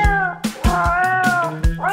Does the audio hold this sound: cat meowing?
yes